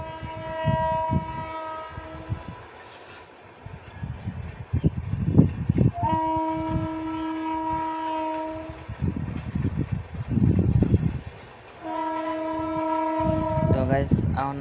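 A passenger train running, its horn sounding in several long sustained blasts over rumbling wheels and rail clatter, loud and close, with bursts of mechanical noise between the blasts.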